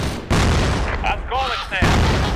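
A frag grenade explodes in the video game Crossfire, a loud booming blast over a dense background of gunfire and game effects, with bursts of sound close and heavy throughout.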